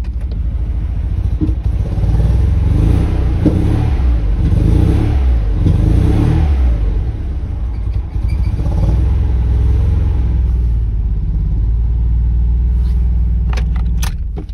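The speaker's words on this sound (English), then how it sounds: "It's just running on the two cylinders." Mazda Miata engine fitted with Audi R8 coil packs and a Speeduino ECU, running rough on only two cylinders, giving a loud, lumpy, uneven rumble with surging revs close by, and no voices.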